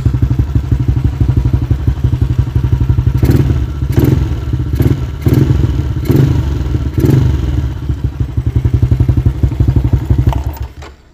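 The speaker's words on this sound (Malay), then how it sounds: "And then bunyi exhaust." A Yamaha LC V8 motorcycle with a modified exhaust and fuel-injected spec 62 setup rumbles at a steady idle, with several short throttle blips rising and falling, loud and close.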